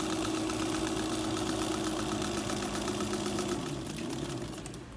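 An antique White Rotary 9002 sewing machine, about 120 years old, runs steadily with a close, even mechanical whir and hum that slows and fades over the final second.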